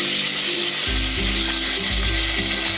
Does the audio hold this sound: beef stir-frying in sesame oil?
yes